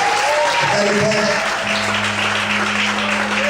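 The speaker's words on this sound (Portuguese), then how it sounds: "Eu convido você agora a glorificar, aplaudir ao Senhor bem forte." Church congregation applauding loudly during an evening service, a dense sustained wash of clapping with some voices and a held tone underneath.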